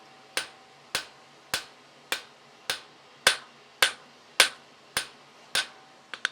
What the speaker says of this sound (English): I'm going to hammer over my tongs as I seat out the toe.